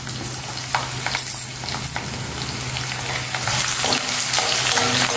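Small onions dropped into hot oil already crackling with mustard seeds, cumin, urad dal and broken dried red chilies for a gongura chutney tempering; a continuous close sizzle with occasional stirring scrapes, growing slightly louder toward the end.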